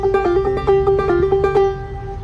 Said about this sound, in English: When I play clawhammer banjo, I play with mostly downstrokes,